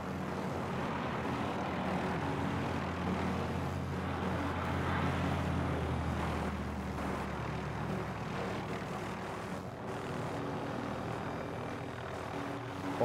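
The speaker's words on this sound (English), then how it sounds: "Stay that side of the chopper." Helicopter rotor and engine roar in Call of Duty: Modern Warfare Plunder mode, a steady, loud, continuous drone holding throughout with no speech over it.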